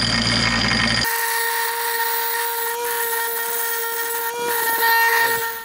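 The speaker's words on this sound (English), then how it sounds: "We're just using a bench grinder for this and doing it by hand." Bench grinder spinning against a disc brake spindle hub for a 1974 Datsun 620 brake upgrade, a steady loud whine with a high ringing tone that holds throughout after a rougher opening second.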